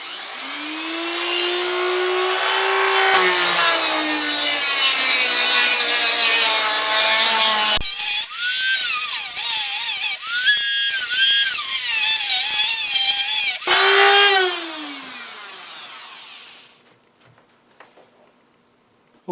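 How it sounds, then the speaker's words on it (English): A Dremel tool cuts along the edges of a metal striker plate with a loud, high rotary whine. The pitch dips and wavers under load, stops briefly and resumes, then winds down to quiet handling noises. "So I take the Dremel tool and just try to cut along those edges"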